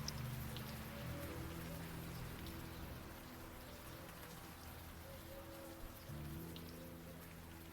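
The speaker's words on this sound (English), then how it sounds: "Ambient rain sound." Steady ambient rain from the video game Old Skies patters continuously at a low, even level, with a soft musical tone drifting underneath.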